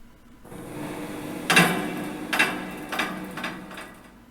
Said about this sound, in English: obviously I recorded a banging door